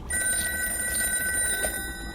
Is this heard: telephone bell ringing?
yes